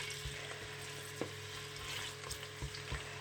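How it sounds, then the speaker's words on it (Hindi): Onions browning in oil for an aloo mutton curry give a faint, soft sizzle with occasional light clicks and taps from the pan. "तो अब मैं ऑयल में सबसे पहले ये प्याज शामिल करूँगी। तो प्याज को पहले ब्राउन करना है।"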